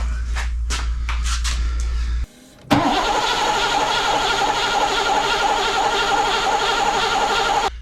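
A 1986 Mercedes engine, starved of fuel, first hums low with a few clicks, falls briefly quiet, then cranks in a loud, sustained, even whir without catching.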